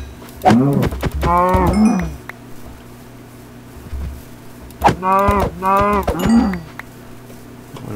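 Cows mooing in the Minecraft video game: two clusters of drawn-out, wavering moos, the first around the start and the second a few seconds later, loud and close with game ambience between.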